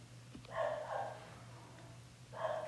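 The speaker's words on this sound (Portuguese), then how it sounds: "vocês estejam ouvindo aqui no fundo o Billy, meu cachorro latindo." Pet dog barking in the background of a home teaching session: two muffled, distant barks over a low steady hum.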